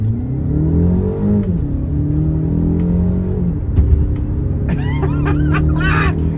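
BMW 228i xDrive accelerating hard from inside the car, the engine note climbing steadily through the revs with a brief dip at a shift before rising again, loud and continuous with some whine on top.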